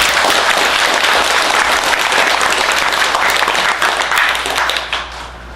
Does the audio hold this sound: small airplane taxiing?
no